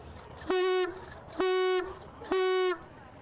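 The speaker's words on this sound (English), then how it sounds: "Okay, so that's a horn." Three loud, buzzing blasts from an old fire evacuation horn, each about a third of a second long, evenly spaced with short pauses, close and harsh with a steady tone.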